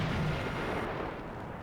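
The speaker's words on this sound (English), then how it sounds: "Ammo's gonna cook off again, and massive explosion." Tank ammunition cooking off in a massive explosion in the video game Totaler Krieg Mod, a dense, sustained rumbling roar of blasts that stays loud and thick, then eases slightly toward the end, with no voices.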